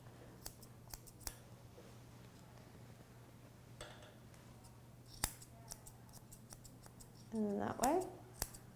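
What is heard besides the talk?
scissors trimming Doodle dog's ear hair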